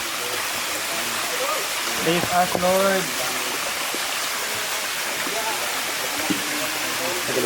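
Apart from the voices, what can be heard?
flowing stream where they bathe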